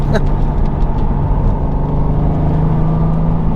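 A modified Subaru WRX STI, 2015–2021 generation, pulls hard up a ramp, its engine droning loudly and steadily throughout with a sustained low throaty tone from inside the cabin.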